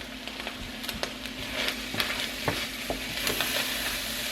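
Ground chuck hamburger, about 1.5 pounds, sizzles and fries in a pan with steady crackling and occasional stirring scrapes, close and moderately loud with no talking.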